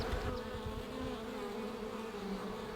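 Honey bees swarm around their hives in a dense, steady buzz that stays loud and close throughout, with a faint hum of wingbeats layered over a continuous drone and no talking.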